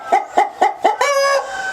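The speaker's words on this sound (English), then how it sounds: "The rooster, proud of his ladies," A rooster on a farm guesthouse yard, close by, gives four quick clucks followed by a single drawn-out crow, alone without talking.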